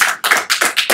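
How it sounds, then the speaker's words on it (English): Congregation at a church prayer and altar call clapping hands in a loud, steady rhythm, five or six sharp bursts of close claps in quick succession with no voices. "Come on, clap your hands and give God praise."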